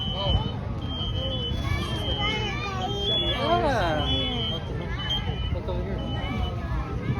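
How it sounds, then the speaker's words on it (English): Intermittent high-pitched beeps of a smoke alarm repeat in short bursts during an outdoor fire sprinkler demonstration at a fire expo, behind a busy mix of voices, crowd chatter and outdoor noise. "There's our smoke detector. Maybe you're hearing it, maybe you're not."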